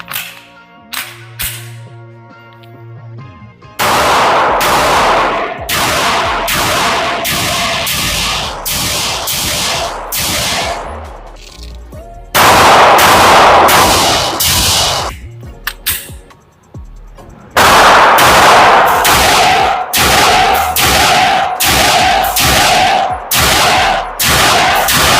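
Canik TP9 Elite SC pistol fired at an indoor range: three long strings of sharp, loud gunshots in quick rhythm with ringing reverb, split by short pauses and faint handling clicks.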